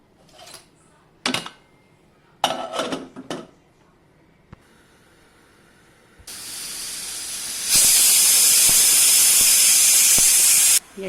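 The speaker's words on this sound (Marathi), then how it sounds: "कुकरच्या पाच शिट्ट्या करून घ्यायच्या आहेत" A pressure cooker cooking rice lets out a loud, steady hissing whistle of steam that builds and holds for several seconds, after a few short clatters.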